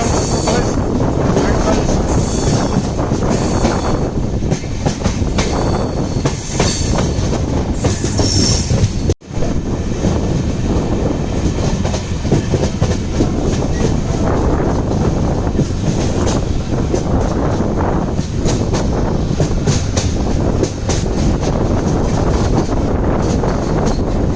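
The Dadar Tirunelveli Express runs along the Konkan Railway in the rain, a loud continuous rumble of wheels on track with clattering, wind buffeting the microphone, and faint voices under the noise.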